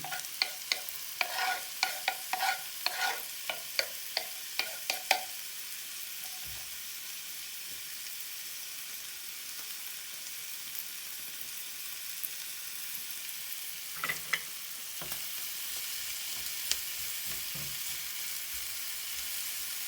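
Smoked turkey dropped into a hot pan for an iskembe and turkey kavurma, giving a rapid clatter of stirring and sizzling frying for about five seconds, then a low steady hiss with a brief scrape near the end.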